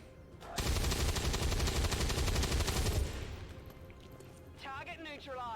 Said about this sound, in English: I think from here, just gonna fire the gun.